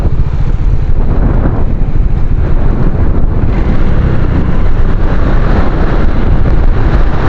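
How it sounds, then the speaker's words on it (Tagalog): Heavy wind buffets the microphone with a loud, constant low rumble and roar throughout. "malakas ang hangin"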